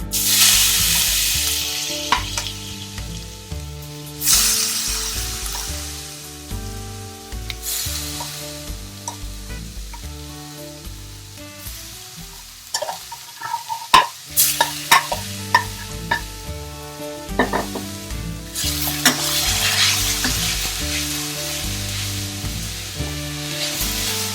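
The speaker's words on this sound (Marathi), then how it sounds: "हे थोडे परतले गेलेत आणि आश्चर्य वाटण्यासारखं याच्यात आपण घालतोय किसलेलं बीट" Grated beetroot stirred and fried in a pan for a sweet modak filling, giving a steady sizzle with intermittent scraping stirs, close up, under background music throughout.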